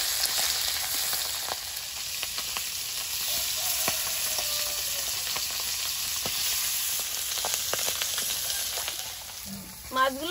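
Flat pomfret fish fry in a pan of hot oil, giving a steady, even crackling sizzle with scattered pops, close and moderately loud throughout, and a brief clatter near the end.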